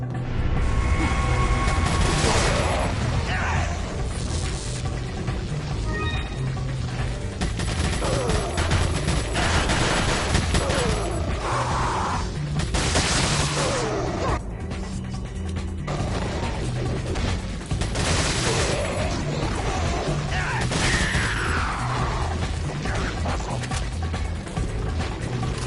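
Resident Evil 4 hand cannon firing in the video game, heavy booming gunshots and crashing impacts recurring irregularly over a loud, dense game soundscape with music, no speech.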